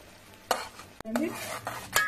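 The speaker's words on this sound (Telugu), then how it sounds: "బెల్లం పాకము మసులుతుంది." Jaggery syrup for bellam gavvalu bubbles in a pan while a utensil stirs it, producing a few sharp scraping and clinking strokes over a soft, low simmering hiss.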